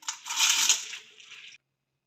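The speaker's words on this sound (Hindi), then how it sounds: "अब हम डालेंगे दाल कुकर में।" Washed red lentils (masoor dal), about two cups, are poured into a pressure cooker, making a brief gritty rushing patter for about one and a half seconds, close and clear, before it cuts to silence.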